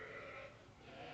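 Hampshire ewes at a sheep show bleat in a brief burst, a muffled, fairly faint call set against the noisy background of a livestock show ring.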